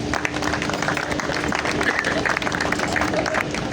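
An audience at a champions' party breaks into applause, dense clapping and crowd noise running steadily throughout, mixed with a murmur of voices.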